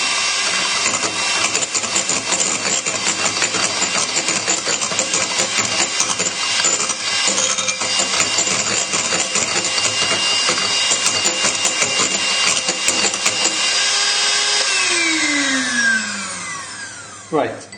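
A lemon curd soufflé mixture being whisked to stiff peaks with added sugar produces a steady mechanical whirring and rattling of beaters in the bowl, continuous and close, fading out at the end.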